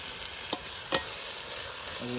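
Tomatoes sauté in a pan for a village-style chicken biryani, a soft, steady sizzle close by, broken by two brief scraping stirs, with no talk.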